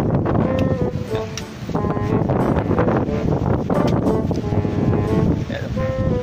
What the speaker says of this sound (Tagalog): sa lakas ng hangin ha